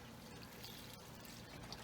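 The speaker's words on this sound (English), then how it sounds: "So we're going to add some beef stock" Beef stock pours into a stew pot in a faint, steady stream, with soft liquid trickling and splashing throughout and no talking.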